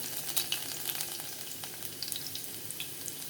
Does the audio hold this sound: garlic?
yes